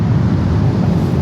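A Suzuki Satria FU motorcycle with a short Pro Liner exhaust muffler and no dB killer fitted rumbles on a public road, giving a brief, loud, close low-pitched engine drone with wind noise and no talking.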